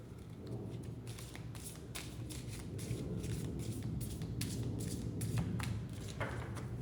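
Close, continuous shuffling of a deck of cards, with soft brushing riffles and light taps repeating irregularly over several seconds at a steady, moderate level.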